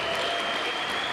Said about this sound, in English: Can we give a big round of applause for our amazing IT staff?